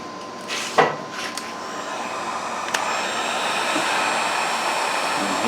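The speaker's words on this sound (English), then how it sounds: "Heat gun again." A heat gun blows steadily on a tightly crimped wire connector during an ATV winch install on a Scag Tiger Cub mower, a continuous close airy roar with a couple of brief knocks near the start.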